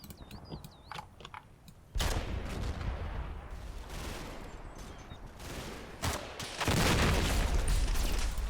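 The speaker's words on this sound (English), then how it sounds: "So that's these guys getting shelled again, either by tanks across on this hillside here or by a 6-pounder." Artillery shelling from tanks or a 6-pounder gun in the wargame Combat Mission, heavy blasts starting with a sudden loud impact, then dense rumbling explosions and a second strong burst near the end, alone and close.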